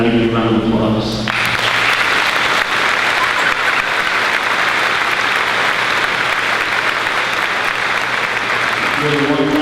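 Loud, sustained applause from students for the 7th graders at the Galvin Middle School Moving On Ceremony, with a dense roar of clapping after a short musical tone at the start and tones returning at the very end.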